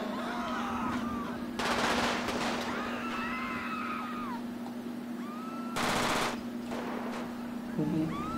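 Gunfire in the GTA 5 video game breaks out in two loud bursts of rapid shots over a steady in-game hum, with faint screams and distant city ambience in between.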